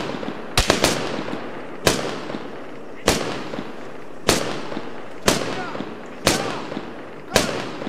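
Gunfire in a city battle rings out as single heavy shots at a slow, fairly regular pace, each one loud and sharp with a trailing echo, with shouting voices in between.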